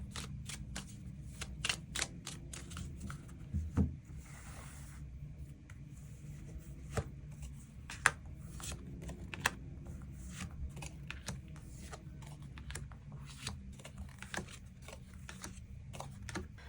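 Tarot cards are shuffled and drawn in a quiet room, a long run of soft, close clicks, flicks and rustling snaps of card stock at an irregular pace.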